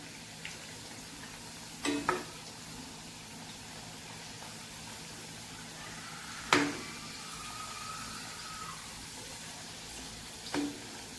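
Boiled potato chips fry in hot oil with a steady, quiet sizzle, broken by three sharp scraping stirs spaced a few seconds apart as the pieces are pushed around the pan to keep them from sticking.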